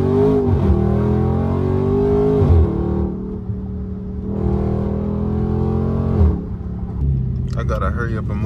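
Dodge Challenger Hellcat Jailbreak Redeye V8 rumbling and revving in repeated surges, loud and close, with rising and falling engine harmonics; voices are faintly audible near the end.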